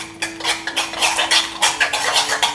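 Spoon stirring cashew mayo into a bowl of greens: close, continuous clinks and scrapes against the bowl in a rapid, uneven rhythm with no talk.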